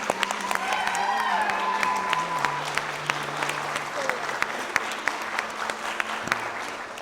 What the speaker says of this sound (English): I think that deserves another round of applause from everybody.